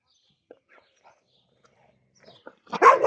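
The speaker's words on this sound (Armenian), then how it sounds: "հեն սիրունիկը հաչում է, վրեդ գորգռում է" A stray dog being fed outdoors gives a short, close burst of barking and growling at the end, after near silence broken by faint soft sounds.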